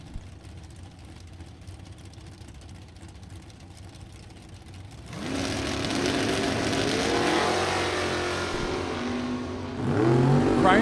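Drag race with a 1970 Buick GS and a 1967 Camaro: quiet track ambience, then loud engines roar and rev as the cars launch, a sustained heavy drone swelling again near the end.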